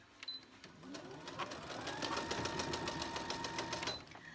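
A sewing machine stitches in a quick, rhythmic run of needle strokes, rising in speed and then stopping, close and fairly quiet.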